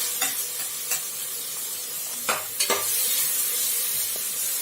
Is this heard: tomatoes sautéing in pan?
yes